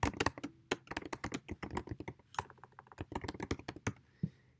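Fingers type on a computer keyboard in quick, uneven bursts of sharp clicks and taps, close and clear, with brief pauses between runs of keystrokes and no voices.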